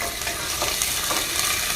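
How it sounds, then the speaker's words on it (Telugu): Peanuts and fresh curry leaves fry in hot oil for raw-mango pulihora, producing a loud, dense, continuous sizzle heard up close without speech. "పల్లీలండి, వేస్తాం. ఫ్రెష్ కరివేపాకు"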